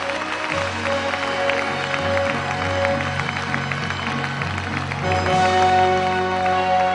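An audience in a large concert hall applauds in a sustained, fairly loud wash of clapping, with music playing alongside and swelling toward the end.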